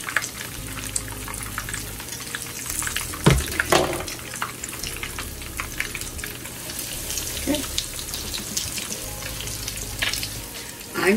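Salmon patties coated in cornmeal fry in a pan on medium heat, giving a steady close sizzle and crackle throughout with a few louder pops and spatters, and no talk.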